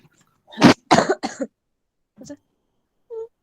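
Three harsh coughs in a quick burst in a classroom, then two brief faint sounds after a pause, fairly close and otherwise quiet.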